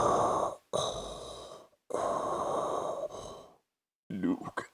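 A voice imitates Darth Vader's mechanical respirator breathing, close and loud, with three long, raspy, hollow inhale-exhale strokes separated by short gaps, then brief throaty vocal sounds.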